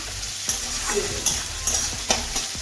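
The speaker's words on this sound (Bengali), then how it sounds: "একই রকমভাবে নাড়তে হবে" Semolina upma with carrots is stirred in a hot pan, producing a soft continuous sizzle broken by repeated scraping strokes of a spoon roughly every half second.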